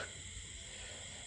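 A frog is being eaten by a snake, and faint croaking-like calls come through over a steady background of insect chirring, quiet and brief.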